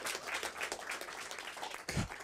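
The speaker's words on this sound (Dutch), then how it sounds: "Applaus voor de dames." Applause for the ladies at a live Frisian music show, a lively burst of many hands clapping in a crowd, fairly distant and soft, with a louder surge near the end.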